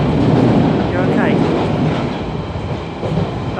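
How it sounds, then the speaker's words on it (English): Steady rumble of a train moving on the rails, heard from on board, with a continuous loud low roar and a brief faint squeal near the middle; faint voices may sit under the noise. "when you're on the train on the move, it's a different story, look"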